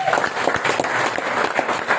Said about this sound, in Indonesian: tepuk tangan dari DPS